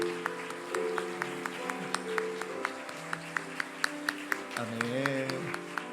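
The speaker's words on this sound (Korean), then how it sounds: "우리 걸어가실 때 끝까지 박수로" A church congregation claps steadily in rhythm at a Sunday service, the evenly spaced claps running throughout over sustained music or singing.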